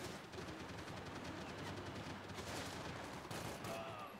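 Dense gunfire in the video game Max Payne 3, loud and continuous bursts of shots and rapid fire filling the scene with no pauses.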